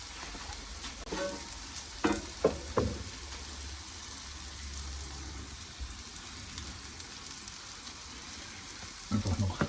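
A large sesame bun toasts on a griddle with clarified butter, giving a soft steady sizzle with a few louder crackling bursts and scraping clatters spaced through the clip.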